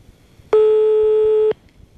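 A telephone busy signal during a call sounds once as a loud, steady electronic tone lasting about a second, starting and stopping abruptly with faint room noise around it.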